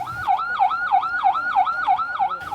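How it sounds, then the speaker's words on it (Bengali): A loud wailing siren at Chattogram Airport sounds a fire alert, rising and falling in quick regular sweeps, about eight cycles in a row, close and dominant, before cutting off abruptly. "সঙ্গে সঙ্গে সতর্কবার্তা পৌঁছে গেল এয়ারপোর্ট কন্ট্রোল টাওয়ারে, বেজে উঠল সাইরেন"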